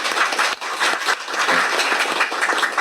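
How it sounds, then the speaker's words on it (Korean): Conference audience at a Korean policy forum on emergency care for people with developmental disabilities claps to welcome the session chair, a brisk, continuous patter of many hands, fairly close and even throughout. "큰 박수 부탁드립니다."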